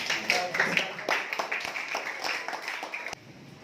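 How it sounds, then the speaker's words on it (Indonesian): Students in a classroom clapping together, a burst of uneven, fairly close claps that loosen into scattered hand slaps and stop abruptly, with voices mixed in. "Tepuk tangan semuanya."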